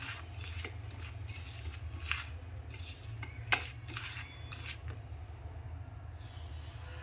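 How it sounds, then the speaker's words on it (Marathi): Pieces of fish are mixed by hand with chili powder and turmeric in a bowl, making soft scraping and rubbing sounds with a couple of sharper clinks against the dish, close and quiet under a low hum. "थोडी मिरची पावडर मी जास्त टाकले थोडी हळद घालते व्यवस्थित हे व्यवस्थित मिक्स करून घेते"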